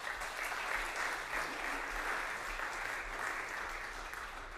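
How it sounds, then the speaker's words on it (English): Faint audience applause at a Poetry Out Loud recitation competition in Monterey County, many hands clapping in an even, continuous patter heard from some distance, with no voices over it. "Big round of applause for all of them."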